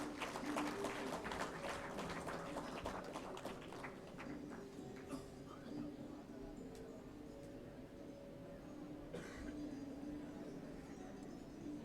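Audience applause at an Engineer's Day function, a faint, distant spatter of clapping that thins out over a low steady background hum with a few tonal notes.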